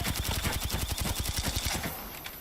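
Volt gun firing in Apex Legends: a fast, steady stream of evenly spaced automatic shots, loud and close, running for about two seconds before stopping abruptly, with no talking.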